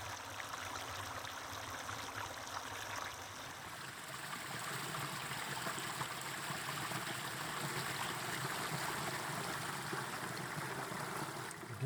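A mountain stream flowing steadily nearby while water bottles are refilled on a trek, a continuous soft rushing trickle with no voices.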